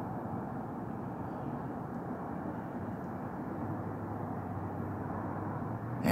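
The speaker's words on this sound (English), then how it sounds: "you got a fifth airplane way out here, and it's way above in the skies tonight" Airplane high overhead in the night sky, a steady low distant drone that holds evenly throughout with no voices.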